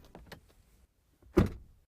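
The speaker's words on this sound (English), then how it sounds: "short, more complex sound events, such as the closing of a car door" An Audi car door shuts with a single solid thump, heard close and clear. A few faint soft clicks and rustles come just before it in an otherwise quiet setting.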